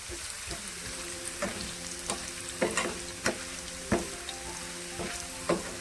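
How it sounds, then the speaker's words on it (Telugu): A second batch of potato chips fries in hot oil with a steady sizzling hiss, broken by regular soft scraping stirs and clinks every half second or so, close and fairly quiet, with no talk. "ఇవి సెకండ్ బ్యాచ్ చిప్స్ అండి. ఇంకా కొంచెం వేగాలి."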